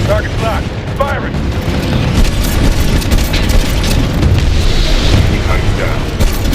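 Titan weapons fire and explode in Titanfall 2, a dense barrage of heavy booms and rumbling blasts with mechanical clatter, loud and continuous, with voices calling out over the combat.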